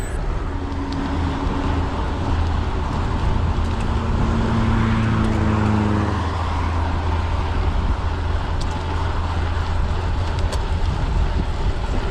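Road traffic of cars on lanes nearby makes a constant loud wash of rolling tyre and engine noise, with a passing vehicle's tone sliding across, heard alongside wind rush.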